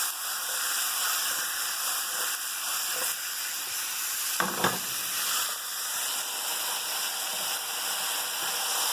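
Seasoned food being tossed in a hot pan, with a steady, bright, close sizzle and hiss throughout and a couple of brief louder shuffles from the toss near the middle.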